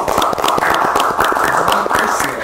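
An audience claps at a school talk show with SMK Muhammadiyah Palangkaraya, giving a dense, steady burst of many hands throughout, fairly loud and close.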